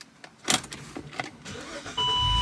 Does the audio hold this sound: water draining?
no